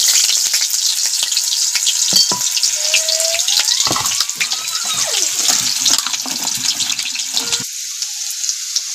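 Chopped onions dropped into hot oil in a village kadhai, a loud continuous close sizzle and crackle throughout, with faint tonal sounds drifting in the background and no speech.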